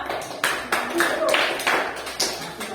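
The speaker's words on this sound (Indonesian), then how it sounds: "Tepuk tangan dulu ya buat Yosi ya." A classroom of students claps for a classmate at the end of a physics lesson, several uneven bursts of hand claps, fairly close, mixed with voices.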